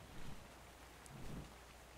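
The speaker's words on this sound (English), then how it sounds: "It started raining, and I think now I see wyverns." Rain falls in the video game Ark: Survival Evolved, a soft, faint, steady patter with a couple of low dull bumps, no talking.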